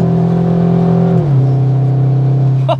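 A SEAT Leon Cupra ST engine pulls hard at full throttle, a loud, steady drone whose pitch climbs, dips at a gear change, then keeps building close up.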